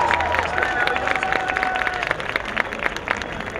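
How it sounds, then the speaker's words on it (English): A crowd at a closing ceremony for a trophy presentation breaks into steady, dense applause with some cheering, filling the hall throughout. "A big round of applause"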